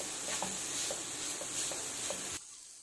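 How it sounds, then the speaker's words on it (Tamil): Pumpkin pieces sauté in a kadai for pumpkin payasam, a bright steady sizzle punctuated by evenly spaced stirring taps before the sound cuts off sharply to near silence. "இப்போ கொஞ்சமாக அது வதங்கட்டும்."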